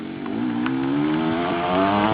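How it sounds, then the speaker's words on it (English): KTM motorcycle at a freestyle motocross jump show, its engine droning steadily with a rising, revving pitch throughout, loud and close, with no talk. "here comes Scott on the KTM"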